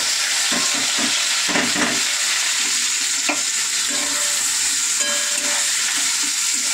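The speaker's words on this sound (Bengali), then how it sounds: "এবার কুচিয়ে রাখা পেঁয়াজটা দিয়ে দেবো।" Chopped onions frying in oil with cumin for a mutton curry, giving a steady close sizzle with intermittent stirring scrapes and clinks of a utensil in the pan throughout.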